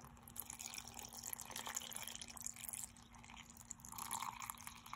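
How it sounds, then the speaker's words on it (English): Water poured over rice in a container while making rice milk for a shampoo bar, a faint, close trickling and splashing pour over quiet background hum. "we'll go ahead and pour some water"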